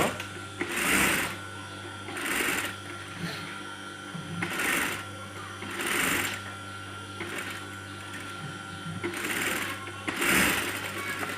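A sewing machine stitching a collar band onto a kameez runs in about seven short rhythmic bursts, each roughly a second long, with brief pauses between them.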